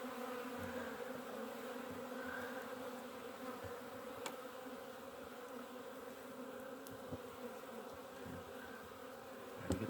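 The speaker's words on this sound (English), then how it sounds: "I got bees all over me now." Honeybees swarming around a beekeeper at an open hive on a late-February day in Wisconsin, a steady low drone of many wings close by, with a few faint knocks and rustles.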